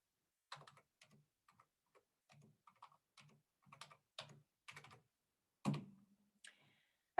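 Someone types on a computer keyboard while entering data into a spreadsheet: sparse, irregular soft clicks with short pauses between them, then a louder thump near the end, heard close and quiet, with no talking.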